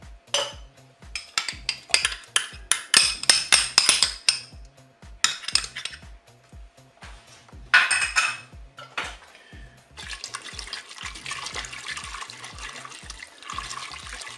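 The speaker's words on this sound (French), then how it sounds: "Je vais mélanger. Je vais prendre un fouet pour ça, le plastique." A plastic whisk stirs mustard sauce in a Cookeo pot for pork chops, ticking rhythmically against the pot. Quick clatters come in bursts, with a softer liquid swish toward the end.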